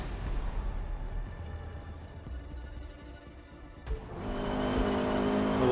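Honda #73 Civic race car engine in Forza Motorsport at Road America, a steady droning engine note that drops slightly, then a sharp shift and a louder rising rev as the car accelerates away.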